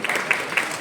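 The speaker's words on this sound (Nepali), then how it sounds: "अहिले एकदमै ताली बजाइदिनुहोस्।" An audience at a boccia game claps in a short burst of applause, a few scattered hand claps that are moderately loud and last under a second.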